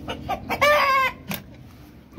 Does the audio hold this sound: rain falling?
no